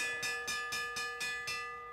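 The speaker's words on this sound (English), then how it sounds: "He's going to hear the bell when he comes around." The last-lap bell at a bike race, rung in six quick, evenly spaced metallic clangs whose bright ringing tones carry over between strikes, with no voices.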